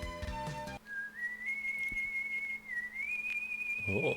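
Proto Man's whistle tune plays in Mega Man 7, a clear melodic whistle line rising in steps and holding after a burst of game music, with more game sound returning at the end.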